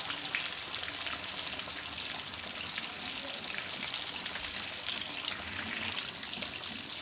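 KFC-style masala fish fries in hot oil in a home kitchen, its second side sizzling with a steady, close crackle and fine popping bubbles throughout.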